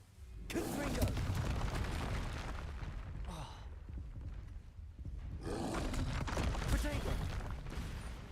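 Confringo blasting-curse explosions in Hogwarts Legacy boom twice as broad roaring bursts, each swelling then fading, with a quieter rumbling lull between them.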